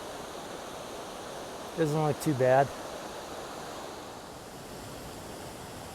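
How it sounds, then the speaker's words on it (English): A river rushing steadily beside a hiker on a rocky trail, a constant broad wash of flowing water with a brief spoken remark in the middle. "It's like I have a river to cross."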